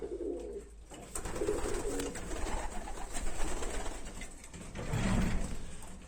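Domestic racing pigeons coo in a loft, soft rolling calls repeating from several birds at close range over a low background hum, with no speech.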